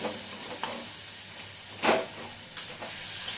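Chicken sizzles steadily as it fries in oil in a kadai, with a few short scraping bursts of stirring breaking through the continuous hiss; no voices.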